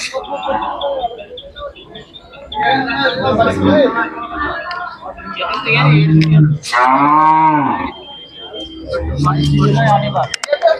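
Khillar cattle moo repeatedly at a busy Sangola livestock market, several loud, drawn-out calls rising over steady chatter and crowd babble.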